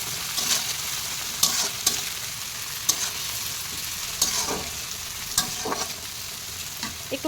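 Onion and meat fry in a hot pan, with a soft steady sizzle under repeated sharp scrapes and knocks of a spoon stirring at irregular intervals, close and fairly quiet.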